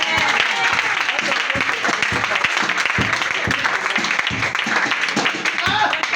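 Applause from a church congregation during a French-language charismatic worship service, a dense, continuous stretch of clapping mixed with voices and cheering.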